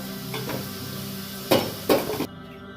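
Potato pieces fry in hot oil in a pan for a Bengali flat-bean dish, making a steady soft sizzle broken by two sharp metallic clatters of a utensil against the pan.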